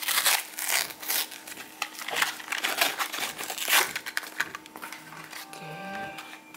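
Plastic blister packaging crinkles and crackles while a pack of Mini Racers toy cars is unboxed, close-up, with irregular crunchy bursts and a short squeak near the end.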